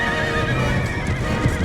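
Cavalry horses charge in the Empire: Total War video game, whinnying loudly over a steady clatter of hooves, with no talk.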